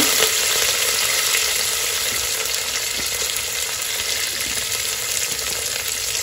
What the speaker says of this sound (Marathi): तर जिरं चांगलं फुललं की यामध्ये मी टाकणार आहे हा कांदा